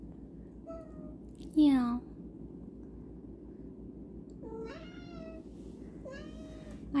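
A pet cat begging for cream cheese meows several times, one loud drawn-out meow then softer repeated cries, close and clear over a quiet indoor hum, with a person's brief talk.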